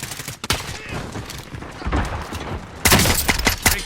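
Gunfire in Call of Duty Warzone, a busy fusillade of sharp shots and bursts over a rumbling battle backdrop, growing heavier and louder toward the end.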